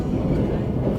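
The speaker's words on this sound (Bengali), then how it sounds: "এখন আমরা ক্রস করছি এটা রামপুরহাট জাংশন।" Steady low rumble and rolling rattle of the Vande Sadharan Express, number 22301, running through Rampurhat Junction on the route from Kolkata toward Sikkim, heard from inside the coach as a continuous, even roar.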